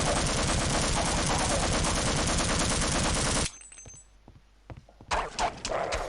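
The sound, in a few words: gunfire in video game Half-Life Opposing Force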